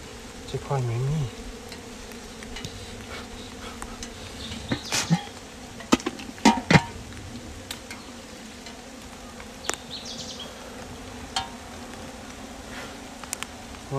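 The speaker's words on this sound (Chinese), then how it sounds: "哇，蜜蜂都扎堆在那个角落了" Bees swarm in a dug-out ground nest in heavy rain, giving a close, continuous droning buzz broken by scattered sharp knocks and clicks from digging.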